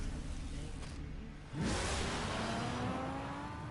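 A car engine in a Batman video game revs up: a quieter idle gives way to a sudden loud surge about halfway through, then a sustained rising, whooshing drone.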